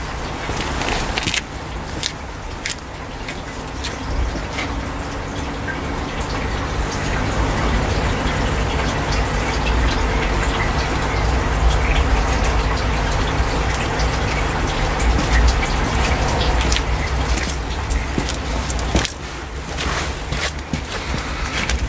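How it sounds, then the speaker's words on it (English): Tap water rushing into an expanding garden hose, a steady broadband gush and hiss that holds for about twenty seconds, loud and continuous, easing off briefly near the end. "when I turn the tap on, you should be able to see it expand"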